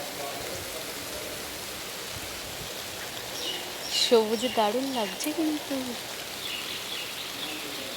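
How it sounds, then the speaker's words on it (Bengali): Heavy rain pours down in a steady, even hiss that lasts throughout, while someone talks briefly over it midway. "দেখো কেমন ঝরঝর ঝরঝর করে বৃষ্টি পড়ছে"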